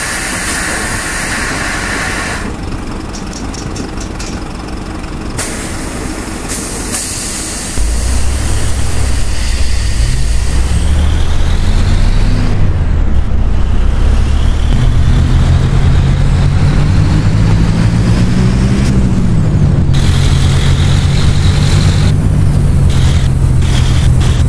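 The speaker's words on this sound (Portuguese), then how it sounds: "Eu não estou acelerando, ele está acelerando." A Marcopolo Torino 2007 bus in the OMSI 2 simulator has a faulty accelerator, and its engine drones loud and steady, rising and falling in pitch as it revs on its own.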